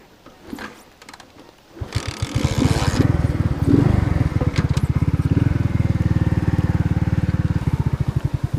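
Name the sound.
Alpha moped engine running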